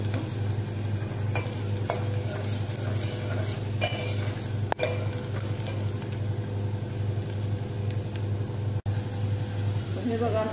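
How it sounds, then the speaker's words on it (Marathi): Onions frying in hot oil as the tempering for a village-style mutton curry, a steady close sizzle with stirring scrapes and a couple of sharp clicks throughout. "आता मला खरपूस कांदा भाजलेला आहे"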